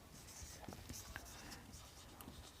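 Pen scratches quietly across paper in short irregular strokes while assumptions are written down during a physics exam solution, soft and close with faint room noise.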